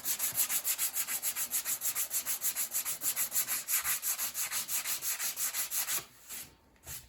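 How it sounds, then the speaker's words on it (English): Fine sandpaper rubs Bondo body filler on a 2010 Acura RDX body panel in a garage, a fast steady back-and-forth rasp of even strokes, close and alone, stopping near the end. "So when you hit that with a finer sandpaper,"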